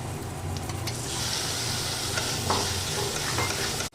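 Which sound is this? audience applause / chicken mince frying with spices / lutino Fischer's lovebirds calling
chicken mince frying with spices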